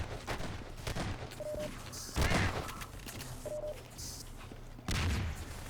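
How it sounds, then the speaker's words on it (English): A grenade blast in the video game Half-Quake during a 2v2 tournament match, one of several heavy booming explosions and gunfire bursts that rise over steady background game noise, with a commentator talking throughout. "Nice grenade."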